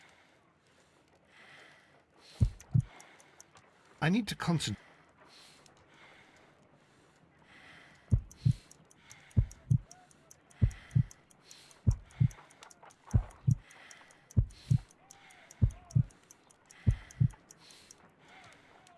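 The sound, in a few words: heartbeat sounds in Sherlock Holmes: Crimes and Punishments video game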